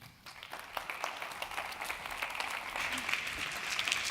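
A conference audience in Spain applauds a speaker taking the stage, with steady clapping that builds gradually from quiet to a fuller, sustained round at moderate distance.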